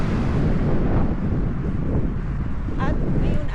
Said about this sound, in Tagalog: At ngayon ay mahangin.